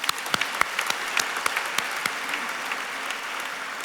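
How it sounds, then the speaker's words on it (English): A small crowd claps steadily, a dense patter of hands that fades slightly toward the end. "please join me in the round of applause to thank them"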